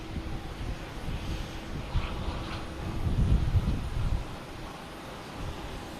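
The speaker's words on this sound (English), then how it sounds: "Here's the Delta coming in from Atlanta." Delta airliner arriving from Atlanta at Boston Logan Airport, a low jet engine rumble that swells toward the middle and then eases off, heard from a distance outdoors with no talk.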